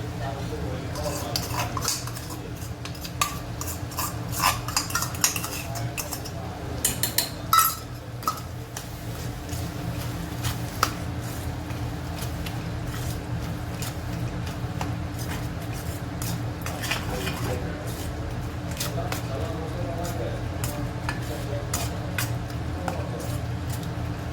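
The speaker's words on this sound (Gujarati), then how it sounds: "તો હવે આપણે આની અંદર આ દહીં જે મસાલા કરીને કર્યું છે તે નાખી દઈશું." Spiced yogurt is added to a lily vegetable curry and stirred, with a spoon clinking and scraping against the pot in irregular bursts over a low steady background hum, no talking.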